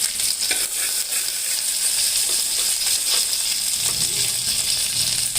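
Curry leaves sizzle and spit in hot oil while frying for a lentil and greens curry, a steady crackling fry with stirring scrapes and a few sharper pops, close and fairly loud with no talk.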